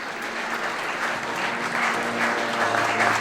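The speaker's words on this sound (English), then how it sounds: "the performances prompt a spontaneous round of applause when the newlyweds kiss" Spontaneous applause from wedding guests inside a village church as the newlyweds kiss, a steady dense round of clapping that holds at even strength throughout.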